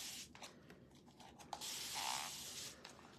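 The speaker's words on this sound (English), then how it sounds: "let me spray this" An aerosol spray can hisses in short and longer bursts during a craft project, with rustling and handling noises between sprays, close and fairly quiet.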